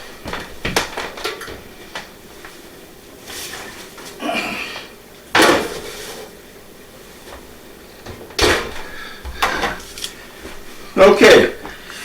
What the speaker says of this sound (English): So let's go ahead and pull our loaf out.